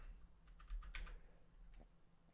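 Keys clatter on a computer keyboard in a quick burst of close, crisp taps, then a pause and a few more strokes, with no talking.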